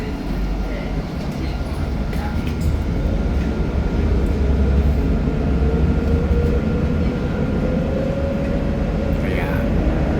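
A train rumbles along steadily with a deep, continuous roar and faint rising squeals, heard from aboard near a mall, with people talking quietly in the background.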